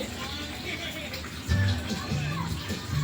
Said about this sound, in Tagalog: Si Miel, patayin mo ang gripo.